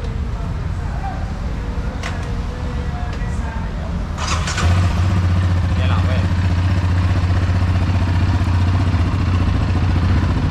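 A Yamaha Raptor YFM700-R ATV engine idles and runs steadily, starting a louder, constant drone partway through, with someone talking over it.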